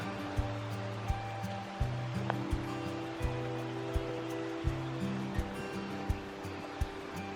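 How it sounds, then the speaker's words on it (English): A babbling river runs beside a woodland path with old roots, a constant soft wash of water noise under regular faint knocks and a low droning tone, steady throughout with no talking. "Sound of the babbling river."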